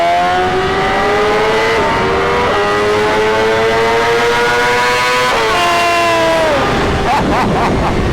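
BMW M1000RR superbike engine screaming hard at high revs, stacked harmonics climbing and holding near a rev limiter around 14,500 rpm, with brief dips at gear changes, loud and close with faint crowd babble behind.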